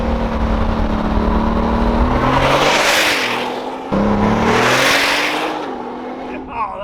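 Loud Bugatti supercar with about 23,000 miles, its engine roaring close by in two long revving surges that rise and fade, the second cutting in abruptly, with a voice talking over it.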